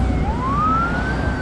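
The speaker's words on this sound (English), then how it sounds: "Ambulance." An ambulance siren on a Macau street, one long tone sweeping steadily upward and holding over a constant wash of street noise, loud and fairly close.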